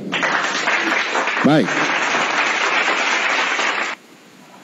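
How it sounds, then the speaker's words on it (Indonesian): Hall audience clapping for a speaker, Ustadz Wafi, at an Islamic talk, a loud sustained wash of applause with a brief voice breaking in midway, cutting off sharply near the end. "kita berikan tepuk tangan buat Ustadz Wifi ya"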